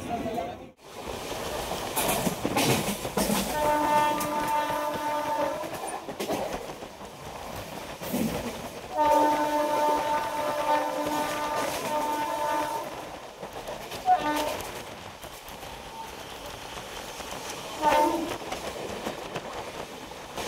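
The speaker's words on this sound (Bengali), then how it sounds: "আমাদের ট্রেন এখন রানাঘাট জংশন রেলওয়ে স্টেশনে পৌঁছে গিয়েছে।" A crowded early-morning passenger train reaches Ranaghat Junction station, its wheels clattering steadily nearby while a horn sounds several times in long tones, and voices murmur in the background.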